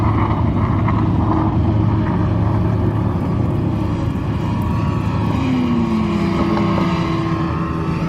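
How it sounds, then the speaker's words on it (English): A Porsche 919 Hybrid race car drives past at a track: a loud, continuous engine drone with a tone that slides down as it passes, mixed with other engine noise. "that's the number 1 Porsche 919 Hybrid"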